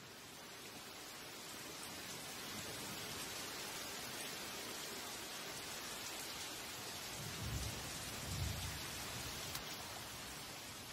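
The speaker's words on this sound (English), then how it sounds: "The rain starts pouring down, like a harsh welcome to the real world." Heavy tropical rain pours steadily through a Thai forest, a dense, even hiss with low thunder rumbling in twice near the end.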